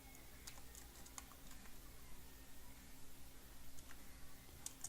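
Soft clicks of a computer keyboard being typed on, quiet and close, in short irregular bursts over a faint steady hum.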